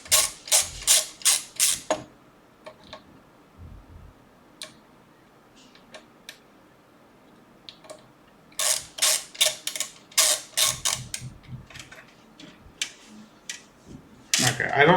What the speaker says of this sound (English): I really am digging on this screwdriver.